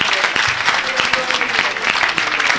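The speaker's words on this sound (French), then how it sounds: "acclame pour Jésus" A church congregation at a worship service claps and cheers for Jesus, a dense, loud wash of applause with scattered shouts running throughout.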